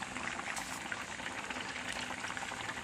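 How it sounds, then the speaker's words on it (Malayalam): Sardine curry with coconut milk bubbles in a pot on the stove, giving a steady, close, continuous simmering and bubbling hiss throughout, with no talking. "കറിയൊക്കെ തിളച്ച് പാകമായി."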